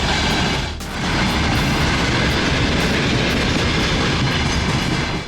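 A train rolls past the Troieshchyna railway platform in Kyiv in the evening, with a loud, continuous rumble and clickety-clack of wheels on track that fills the whole stretch.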